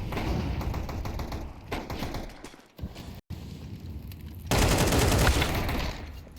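Counter-Strike match gunfire crackles in dense bursts of rapid shots, dropping briefly to near silence before a louder, sustained volley of pistol fire including Desert Eagles and Tec-9s.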